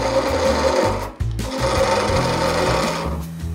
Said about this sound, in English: what I would consider a bit of a planing cut, uh, but really it's a push cut and we're just going to start removing